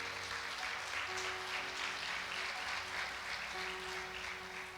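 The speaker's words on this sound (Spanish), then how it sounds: "Vamos, aplauda a Cristo." A church congregation claps for Christ, steady continuous applause with a faint tonal hum underneath, no voices.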